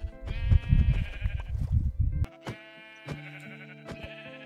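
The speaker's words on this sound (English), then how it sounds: "Evil sheep." Sheep in the video game Minecraft bleat in a string of loud, close, nasal calls, with a burst of rumbling game noise at the start and sparse clicks after.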